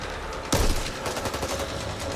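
Gunfire in the co-op zombie shooter Back 4 Blood: one sharp, loud shot followed by a rapid rattle of further shots and echoing blasts, close and continuous.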